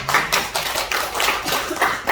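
A church congregation claps in a short burst of applause during a sermon, with rapid, dense claps that keep an even loudness for about two seconds.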